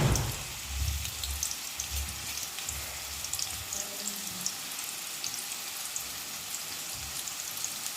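Onions frying in coconut oil in a clay pot, a steady broadband sizzle with some crackle, loudest at the start and settling into an even hiss.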